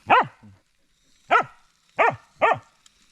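Four sharp barks from a single dog at close range, with long pauses between the first and second and two quicker barks at the end, in a quiet outdoor setting.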